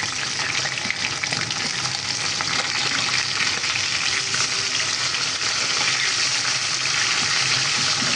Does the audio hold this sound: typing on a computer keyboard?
no